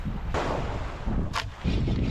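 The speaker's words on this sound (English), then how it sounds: "I did notice it's very windy." Strong wind buffets the microphone in a steady, rumbling roar, with a brief gust-like rush in the middle.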